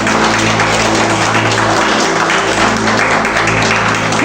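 A church congregation applauds together, a dense, loud and continuous wash of clapping with a low hum underneath, holding steady throughout without any talking.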